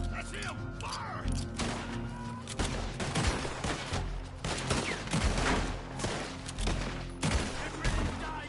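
A Red Dead Redemption 2 shootout crackles with dense, continuous gunfire, overlapping shots near and far with thuds, while voices shout over the din.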